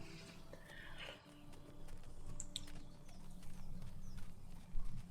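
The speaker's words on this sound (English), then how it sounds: "There's some horses in the background." Horses clip-clop faintly in the background of a fantasy tabletop game's travel scene, a soft, scattered hoof rhythm under quiet ambient noise.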